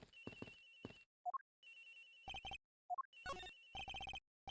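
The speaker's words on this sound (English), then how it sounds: "Agent Hicks' phone. It's ringing from somewhere, sir." A cell phone ringtone from the Ace Attorney Investigations: Miles Edgeworth video game, an electronic ring repeating in short bursts separated by pauses and rising blips, clear and alone without talk.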